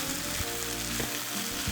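Mutton chops sizzle loudly in a pan as they are stirred in, a dense close crackle with a couple of soft scraping stirs and no talking.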